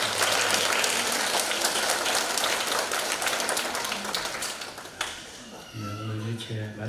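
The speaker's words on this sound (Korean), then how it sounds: "옆에 좌우에 있는 분에게 축복의 박수를." A church congregation gives a loud, dense round of clapping during an evening revival service, sustained for several seconds before tapering, after which a voice speaks over a low hum.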